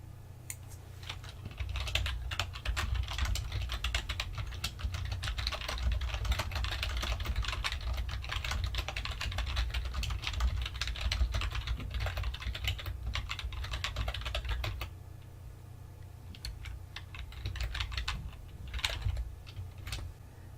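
Continuous brisk typing on a computer keyboard while coding in Java, dense close key clatter for about fifteen seconds, then a brief pause and a few more scattered keystrokes, no voice.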